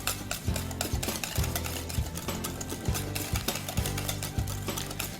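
A bowl of biscotti ingredients and sweetener gets a brisk stir, with a utensil clacking and scraping against the bowl in a quick steady rhythm, close and moderately loud, with no one speaking.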